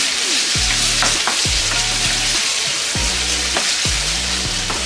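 Chopped onion and a medium tomato fry in oil for aloo gobi with a dense, constant hiss and sizzle, while a spoon stirs and scrapes the pan in regular rhythmic strokes close by.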